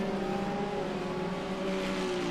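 IMSA prototype race car in a racing video game at Road Atlanta, a steady, loud engine whine holding a high pitch as it powers out of the final corner, heard alone.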